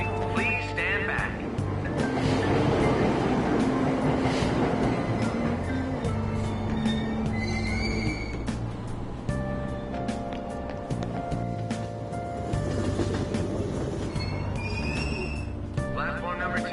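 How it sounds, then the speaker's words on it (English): A Tokyo subway train in Persona 5 Royal pulls out of Aoyama-Itchome station, a steady mechanical rumble and hum running the whole time beneath station announcements and platform voices. "Train doors are now closing."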